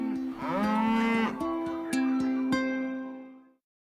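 A single long, loud cow moo, a free-grazing dairy cow in a milk advertisement, sounds close and alone with no talk, drawn out for a few seconds before cutting off.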